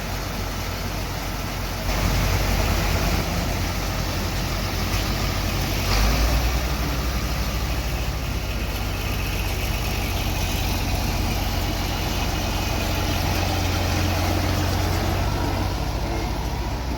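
An IH tractor engine idles steadily at a field demonstration day, a continuous low rumble with a slight surge near the two- and six-second marks, running alone throughout.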